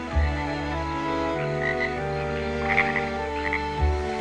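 A frog croaks in low, rough, repeated pulses, fairly loud and close, with a few higher chirps from other frogs layered faintly behind and no talking.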